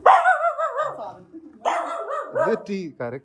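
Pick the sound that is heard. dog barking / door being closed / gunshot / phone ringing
dog barking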